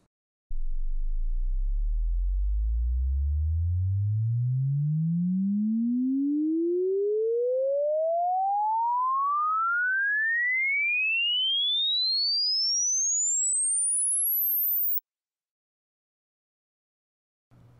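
A steady pure sine sweep tone used to measure headphone frequency response, rising smoothly from a low bass hum to a very high pitch over about fourteen seconds, loud and alone with no talk.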